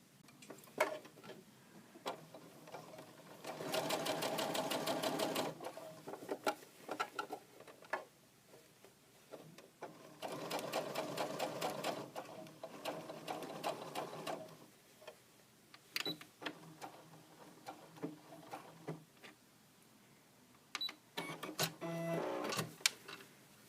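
A sewing machine sews blue topstitching on doll pants in bursts of fast rhythmic stitching, three main runs of several seconds each, separated by quiet pauses with small clicks and handling noises.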